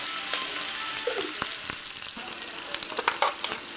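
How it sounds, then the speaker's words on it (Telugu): Fish fries in hot oil with a continuous close crackling sizzle, dotted with sharp pops and the odd clink of a spoon as the pieces are turned. "ఫ్రై చేసుకోవాలి ఆయిల్లో. ఫిషెస్ వేసుకొని స్లోగా కలుపుకోవాలి,"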